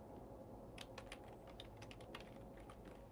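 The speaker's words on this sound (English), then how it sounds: "I'm just gonna type in Normcore" Quick, light keystrokes on a computer keyboard, a short burst of irregular clicks over a steady low background hum, fairly close and quiet.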